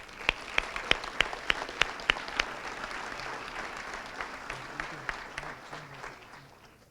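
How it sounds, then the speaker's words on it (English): Audience applause at a hall of fame and years-of-service award ceremony, a moderate crowd clapping steadily with a few sharp, close individual claps standing out early, then settling into a softer, even patter that tapers off. "Let's give another round of applause."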